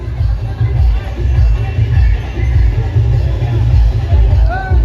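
Dense crowd gathered for a village palanquin procession with three palanquins, a steady loud rumble of many voices and babble filling the whole stretch without pause.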